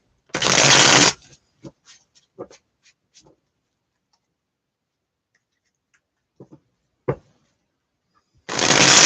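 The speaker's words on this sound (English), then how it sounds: "You're going to shuffle these up so we can have our cards that are catered for that." Bursts of brisk card shuffling at the start and end, with scattered light taps and clicks of cards being handled in between.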